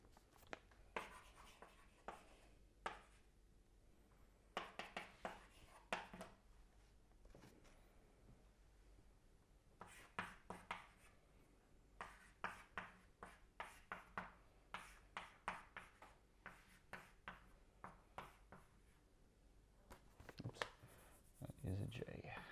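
Chalk or marker taps and scrapes in irregular bursts as a lecturer writes out a matrix on a board during a quantum field theory lecture, fairly faint in a quiet room with some speech.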